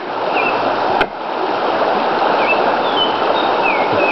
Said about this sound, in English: Did you hear that creek?